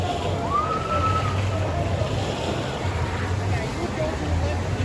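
Rushing water of a fast-flowing water park river at Volcano Bay sloshes and churns steadily throughout, loud and close, with a brief whistle-like tone early on.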